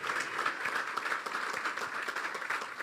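A church congregation applauds during a sermon, a dense, steady patter of many hands clapping that carries on evenly throughout at moderate volume.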